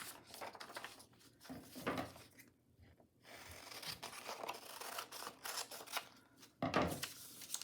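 Scissors cutting through paper ephemera, a series of crisp close snips and rustles in irregular rhythm, quiet overall with brief pauses between cuts.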